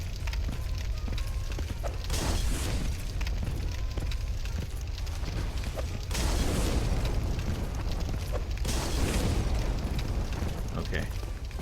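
Fire bombs bursting in the Dark Souls game, several whooshing, crackling blasts that swell and fade over a continuous layer of game noise, with someone talking over them.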